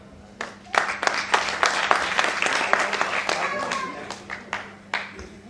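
Audience claps for a dholak master at an evening folk song and dance program, the applause building into a dense, sustained round with sharp individual claps standing out, over a low steady hum from the hall's sound system.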